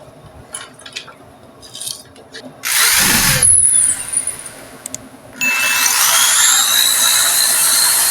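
A power drill drives screws into a homemade Santa-on-a-sleigh Christmas decoration, two loud sustained whirring bursts with rising pitch, separated by a short pause and preceded by faint clicks.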